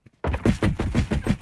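Automatic gunfire in a video game shooter: a rapid burst of about seven heavy, booming shots in even rhythm after a brief quiet start, loud and close with no talk over it.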